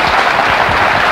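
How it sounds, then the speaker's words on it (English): Brief audience applause in a country music TV show studio, a loud, dense burst of clapping lasting about a second. "And I think that deserves an applause."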